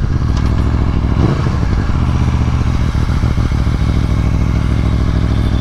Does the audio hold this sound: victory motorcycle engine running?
yes